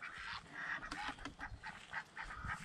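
A farmyard duck near an orchard gives repeated harsh, honking quacks in uneven bursts, fairly close and loud over a steady outdoor background, with no talking.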